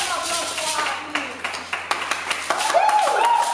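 Church audience clapping as a testifier comes onstage, a loose scatter of individual claps and taps with a few sharp louder ones, mixed with a bright ringing tone and a voice speaking over it.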